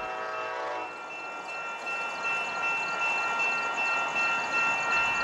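BNSF freight locomotives running on a Union Pacific coast line at night, with a loud, steady rumble and a brief horn-like tone at the start, followed by continuous rolling rail noise close by.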